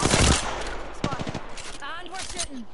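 Automatic gunfire in a PS4 shooter game, loud rapid bursts up front followed by more scattered shots and game effects, with a voice talking over it.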